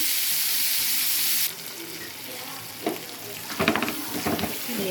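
Cluster beans frying in a pan as their water cooks off, giving a loud steady hiss that drops to a softer sizzle, followed by a few scraping stirs near the end.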